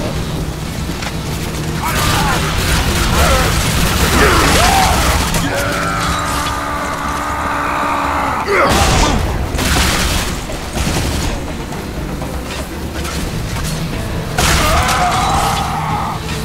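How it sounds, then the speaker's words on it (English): A quad-barreled shotgun fires in the video game Bulletstorm, with several heavy booming blasts spaced a few seconds apart amid game effects, and someone talks over parts of it. "Quad-barreled shotgun."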